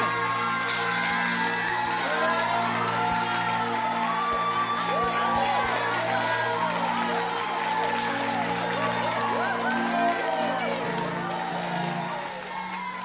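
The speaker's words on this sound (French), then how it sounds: "Je vous demande de vous mettre debout et on applaudit chaudement nos élèves" Audience at a school student celebration applauds and cheers for the pupils; steady crowd clapping with whoops and shouting voices throughout, fading slightly at the end.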